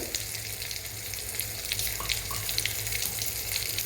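Half a glass of water pours steadily with a rushing splash into a sizzling tempering for kadhi in a pan, continuous for a few seconds, with no voices.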